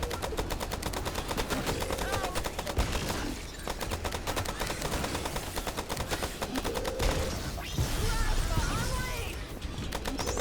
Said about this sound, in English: Just dodge my plasma cannon